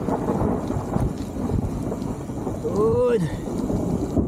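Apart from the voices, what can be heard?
heavy rain with thunder on Mount Timbak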